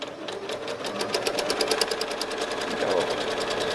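Sewing machine quilting squares on a quilt, its needle hammering in a fast, even rhythm, close and steady throughout, with a brief shift in tone near the end.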